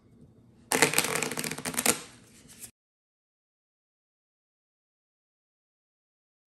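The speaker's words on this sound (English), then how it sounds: "we got the deck shuffled pretty well" A deck of cards is riffled and shuffled up close for about two seconds, a dense burst of crisp flutter and slaps for a knife card game, then stops into silence.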